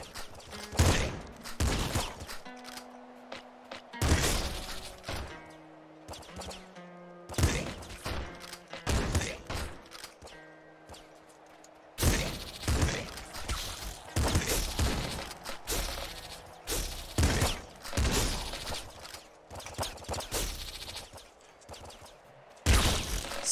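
Grenade blasts and rapid gunfire from the top-down shooter game Nuclear Throne, a dense run of sharp explosive bursts and shots repeating throughout, loud and close, with steady electronic game music underneath.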